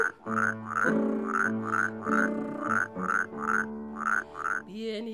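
A frog croaks in a song, a steady run of about ten evenly spaced, ringing croaks over sustained tonal backing, loud and close with no voices.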